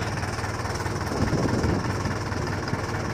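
A tank engine runs steadily after a transmission rework and an oil leak repair, producing a continuous low, rough rumble with a slight knocking texture and a brief swell in loudness, with no talking.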